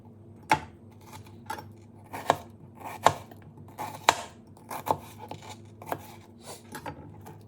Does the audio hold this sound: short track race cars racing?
no